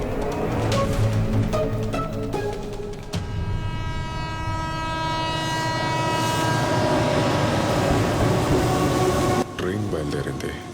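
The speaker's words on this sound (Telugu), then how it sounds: "ట్రైన్ బయలుదేరింది" A passenger train pulls away from a station, its horn sounding with sustained tones over rumbling wagons and clacking wheels, loud and close, with voices talking beneath.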